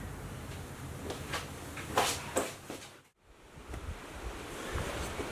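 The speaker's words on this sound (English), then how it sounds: "It's a pretty windy, gloomy day today" Gusty wind buffeting the microphone outdoors on a gloomy day, a steady rushing roar with a few sharper bursts and a brief lull.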